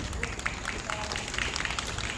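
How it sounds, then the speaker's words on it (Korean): Moderate, continuous audience clapping at an outdoor civic rally in Jinju, a crowd applauding steadily with scattered individual claps standing out. "박수 한번 쳐주시기 바랍니다."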